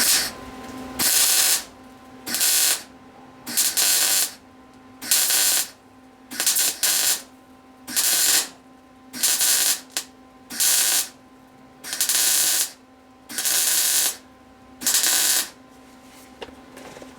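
MIG welder stitch welding the floor of a VW double cab, about a dozen close, loud bursts of crackling buzz, each roughly a second long, separated by short pauses with a faint steady hum between.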